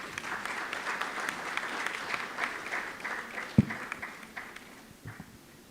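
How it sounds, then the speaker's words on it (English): Applause from a conference audience for an energy panel, fairly quiet and spread out, with scattered claps thinning toward the end and one sharp knock partway through. "Please, let's applaud them once again."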